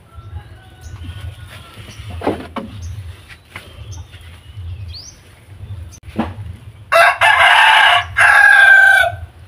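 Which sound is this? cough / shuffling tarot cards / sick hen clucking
sick hen clucking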